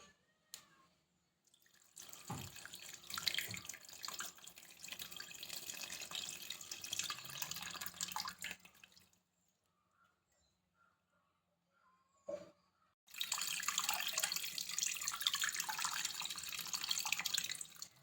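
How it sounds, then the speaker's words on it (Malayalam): Soaked tamarind water poured into a fish curry, two spells of gentle splashing pouring separated by a quiet gap, fairly faint and close with no voices. "ഇനി നമുക്ക് നമ്മൾ നേരത്തെ കുതിർത്ത് വെച്ച പുളി ഇതിലേക്ക് ഒഴിച്ചു കൊടുക്കാം"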